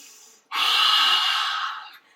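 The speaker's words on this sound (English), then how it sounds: "Big breath in." A single deep inhalation during a yoga flow, a long, steady breath drawn in close to the microphone for about a second and a half before fading out.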